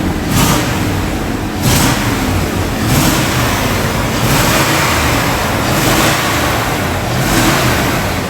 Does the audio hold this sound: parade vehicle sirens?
no